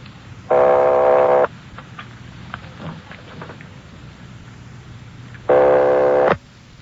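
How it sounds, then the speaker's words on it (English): Telephone ringing in an old radio detective drama, with two long loud buzzing rings separated by a pause, over faint crackly background noise. "They're ringing the number, Sergeant."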